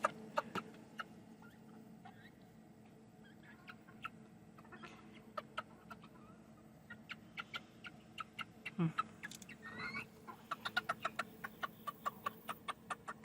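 Bantam Cochin rooster clucking to hens, a faint, quiet series of short clucks that grows into rapid bursts toward the end, close by with a low background hum.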